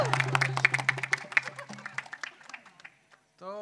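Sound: concert audience applauding and making noise

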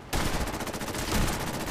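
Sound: cannon fire aboard U.S.S. Constitution in Fallout 4 video game

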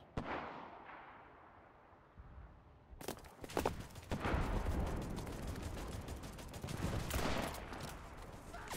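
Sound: M3 Grease Gun gunfire in video game Enlisted

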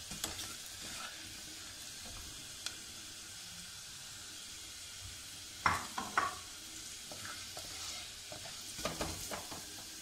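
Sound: stirring and frying spices with chana dal

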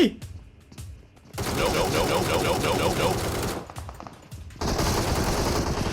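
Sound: ACE32 rifle gunfire in video game PUBG Mobile

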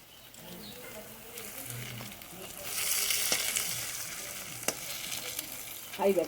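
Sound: meat frying with ginger-garlic paste for biryani

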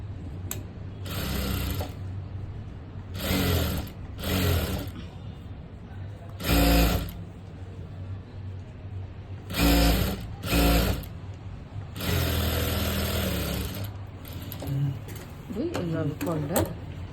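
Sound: sewing machine stitching blouse lining

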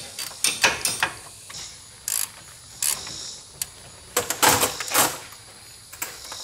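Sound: tightening wheel bearing nuts on a Ranger

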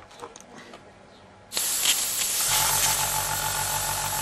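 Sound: airbrush spraying thinner

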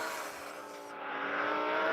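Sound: car accelerating in a video game

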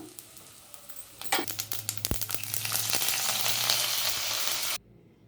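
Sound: tamarind rice tempering frying in pan

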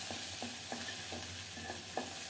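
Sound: frying homemade dried fish in oil

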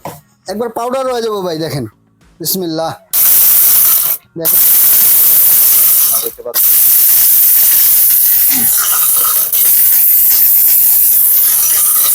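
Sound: electric blender grinding turmeric

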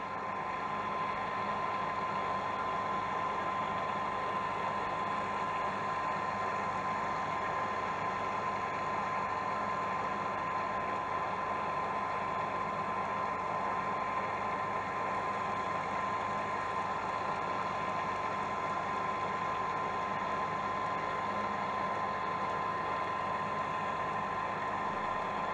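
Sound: boat engine running during anchor test

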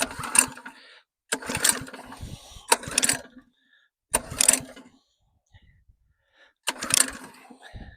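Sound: attempt to start a petrol engine one-handed

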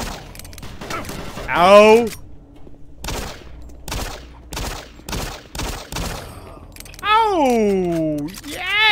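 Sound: gunfire from Doom 3 video game

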